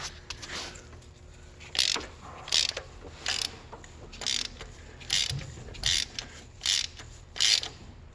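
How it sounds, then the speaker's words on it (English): Ratchet being turned to tighten an oil pressure sending switch on a 2007 Chevy Impala SS 5.3L engine, giving a run of about eight bright, regular clicking bursts at close range with no talking. "use your ratchet"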